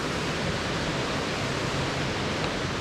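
Pistyll Cain waterfall in Wales pours in a constant, dense roar of falling water, heard fairly close and alone.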